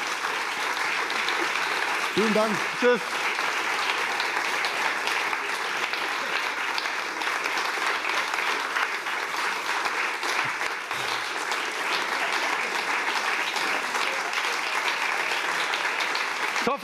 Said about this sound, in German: Ich hoffe, Sie hören den langanhaltenden Applaus noch